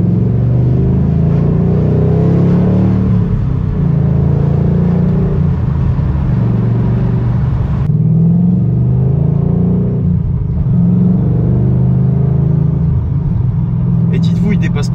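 Steady engine drone from a 2013 Ford Mustang GT Premium heard from inside the car at moderate revs, low and continuous throughout, with people talking over it.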